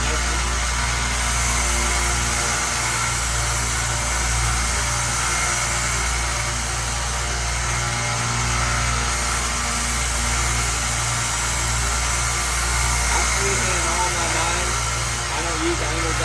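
A 1x30 belt sander runs steadily throughout while a knife is sharpened on it, a continuous mid-pitched motor hum with belt hiss, close and loud.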